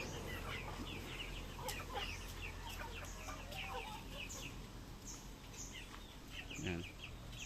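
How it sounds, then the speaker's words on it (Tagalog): Rhode Island Red chickens clucking in a flock, a steady chorus of near and distant clucks and calls over faint background noise. "Rhode Island Red natin mga tropa, dark na dark talaga."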